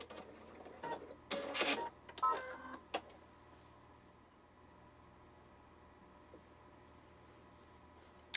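BabyLock embroidery machine stitching after a fix for upper tension issues: a few short mechanical whirring bursts up close during the first three seconds, then a faint steady background hum.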